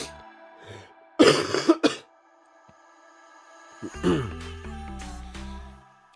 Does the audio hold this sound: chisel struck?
no